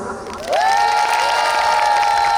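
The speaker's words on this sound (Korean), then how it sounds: "다 같이 박수!" Crowd applauding and cheering at a lively group event in Hoengseong, a steady full wash of clapping with a sustained tone rising through it.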